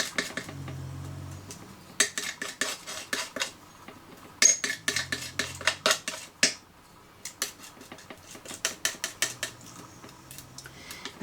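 Talcum powder being mixed into texture paste and colours, heard as quick bursts of tapping and scraping of a tool against a container, close and moderately loud, with short pauses between bursts.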